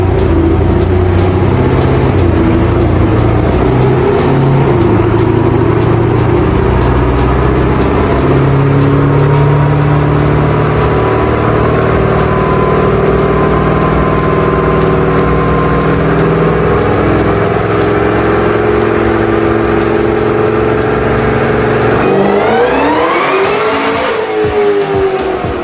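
Pontiac G8 GT with a 427 engine strapped to a dyno, roaring loud and sustained as it climbs through a full pull, then the revs drop sharply near the end as it winds down.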